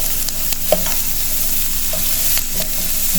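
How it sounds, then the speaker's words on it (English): Amaranth leaves, boiled mung beans and plantain peel sauté in a pan, a steady close sizzle broken by a few soft scrapes and clicks of a spoon, with no talking. "keep sauteing till the leaves and the mung are cooked"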